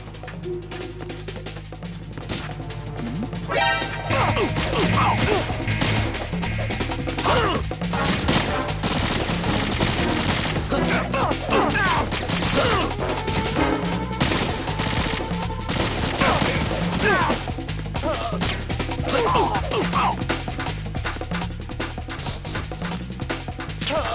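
Soldiers open fire in Metal Gear Solid 2: Sons of Liberty, sustained rapid automatic gunfire with sharp crashes and impacts, loud and continuous after a quieter opening, layered over game music.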